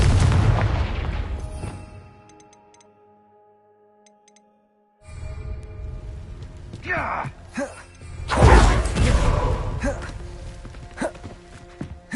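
Confringo spell explosion in the video game Hogwarts Legacy: heavy booming blasts and thuds with rumbling spell effects and game music, a near-silent gap, then another loud burst, with a voice shouting over the action.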